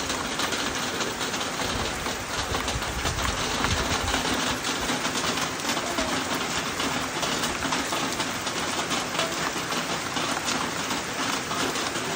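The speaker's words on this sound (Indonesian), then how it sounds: "Deras sekali hujan, kita terkurung di sini" Steady, heavy rain pours down in a constant dense hiss, with a low rumbling undertone and no voices.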